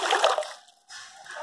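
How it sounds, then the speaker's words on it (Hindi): A small toy boat splashes and sloshes through bathtub water in a short burst of close, bright splatter that drops out briefly and then returns as softer rippling. "इसमें हम पहले छोटी सी बोट ये देखिए चलाते हैं"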